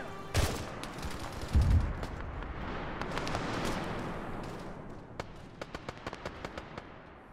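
Arma 3 combat gunfire: two heavy close blasts early on, then rolling distant fire and a string of sharp individual shots toward the end, moderately faint overall.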